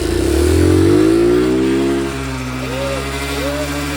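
A scooter with a seized engine is cranked and fails to catch, its motor groaning with a falling pitch before dropping to a lower steady drone, loud and close. Faint voices can be heard.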